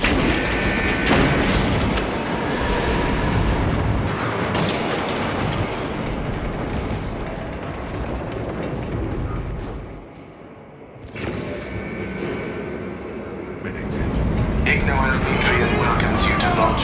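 A heavy lift descends in Warhammer 40000: Space Marine 2, a loud, continuous mechanical rumble and clatter with rhythmic clanking and booming, dipping briefly before surging back; voices speak over it.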